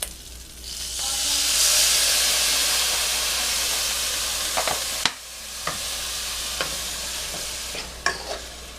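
Shallots and garlic browning in a pot with a splash of white vinegar give a loud, steady sizzle with hissing steam, which eases slightly midway, broken by a few sharp clicks and scrapes of stirring.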